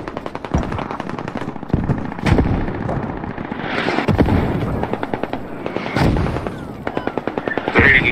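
Mortar shells burst near the Bravo point in an Al Basrah invasion battle game, a run of loud, close booms with rapid crackling fire between them across the whole stretch, under a brief faint voice.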